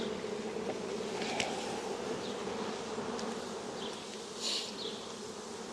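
Honeybees at an open hive drone in a steady, close swarm hum, with individual bees zipping past the microphone now and then; fairly quiet and continuous, no speech.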